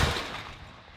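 A single heavy artillery boom from a Soviet-era D-44 field gun right at the start, its deep rumble decaying and echoing away over about a second.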